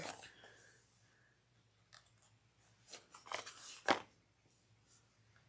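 Scissors trimming fabric material for a sunglasses case, a few quiet snips and crunchy cuts with one sharp louder snip near the end, close in a quiet room.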